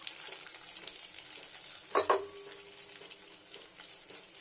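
Dry fruits frying gently in ghee at low heat, a soft quiet sizzle with a brief louder burst of stirring or spattering midway.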